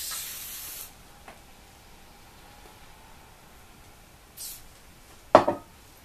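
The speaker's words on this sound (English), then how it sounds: "I spray a little bit of olive oil spray." A short hiss of olive oil aerosol spray onto hair near the end, brief bursts with quieter hissing earlier, otherwise near silence.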